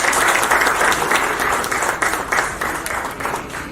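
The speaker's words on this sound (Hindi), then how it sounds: "तो मैं चाहूंगा कि उनके लिए एक जोरदार ताली होनी चाहिए।" A crowd at a Bhojpuri film event gives loud, sustained applause, with dense clapping that pulses slightly and stays steady for several seconds.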